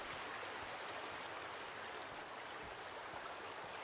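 A small river flows through a forest in Sons Of The Forest, a steady, soft, broadband rushing of water, faint and continuous with no voices.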